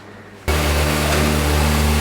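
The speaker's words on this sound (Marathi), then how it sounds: "गाडी कोल स्टार्ट झालेली आहे आता." A Kawasaki ZX6R motorcycle cold starts abruptly after a short quiet moment, then settles into a loud, steady, close idle with a rough low hum.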